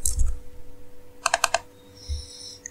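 Keys typed on a computer keyboard to enter a component name in circuit simulation software, a short quick burst of several clicks in the middle, near and clear, with a few softer knocks around it and no talk.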